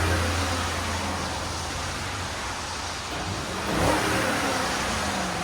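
A 2012 Lexus LS 460 with its 4.6L V8 and stock exhaust idles and revs, a subdued, steady engine drone with a brief rise in the middle, heard close up without talking.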